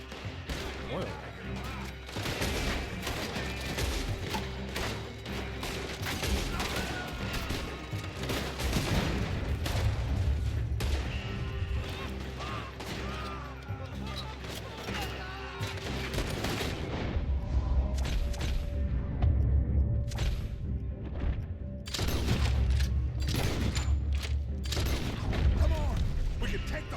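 Dense bursts of gunfire and booming blasts in a video game shootout as an oil wagon is shot, with loud overlapping shots and explosions sustained throughout and voices occasionally heard underneath.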